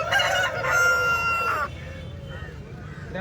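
A fighting rooster at a country-breed poultry market in Kundarapalli crows loudly and close by, a single drawn-out call that cuts off, followed by quieter background noise.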